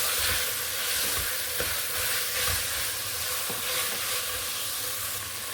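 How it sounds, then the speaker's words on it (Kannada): Chopped coriander and mint fry in a pan for chickpea pulao, giving a steady, moderately loud sizzle with occasional soft stirring scrapes and no voices. "ಇವಾಗ ಕೊತ್ತಂಬರಿ ಪುದೀನ ಕಟ್ ಮಾಡ್ಕೊಂಡು ಇಟ್ಕೊಂಡಿದ್ದೆ ಅಲ್ವಾ, ಅದು ಹಾಕ್ಕೊಂಡು ಸ್ವಲ್ಪ ಫ್ರೈ ಮಾಡ್ಕೊತಾ ಇದ್ದೀನಿ"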